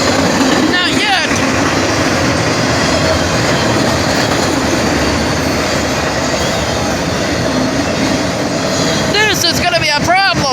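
A train rumbles past on the main line at a state route crossing, a steady loud roar of wheels and cars filling the whole stretch, with brief squeals near the start and end and faint talk underneath.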